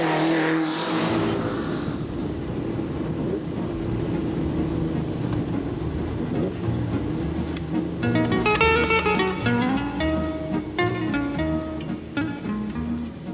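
Rally cars on the 1993 Tour Auto (Tour de France Automobile) running at high revs, a sustained engine roar with rising and falling pitch as cars accelerate, fairly close, with a whining gear-like tone climbing near the end.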